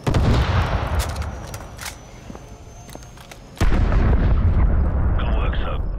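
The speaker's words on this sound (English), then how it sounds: "So, grab another Stinger and fire again." Stinger missile launcher firing in Call of Duty: Modern Warfare Remastered, a loud booming blast and rumbling explosions with battlefield gunfire, a sharp second launch surge partway through.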